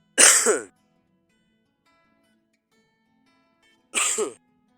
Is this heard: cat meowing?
no